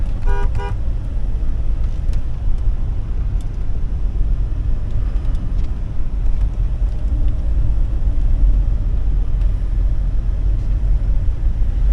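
A 2005 Hummer H2 with a 6.0L LQ4 V8 drives in low gear, a steady loud low rumble from inside the cabin with a brief chiming tone near the start.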